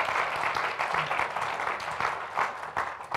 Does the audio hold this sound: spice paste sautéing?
no